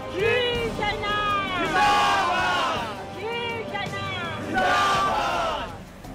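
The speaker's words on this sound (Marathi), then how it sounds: "या आजीबाईंनी शिवसैनिकांच्या सोबतीनं राणा दाम्पत्याच्या विरोधात जोरजोरात घोषणाबाजी केली." A crowd of Shiv Sainiks shouts slogans loudly in unison, rhythmic chant-like bursts of many voices rising and falling, close and continuous.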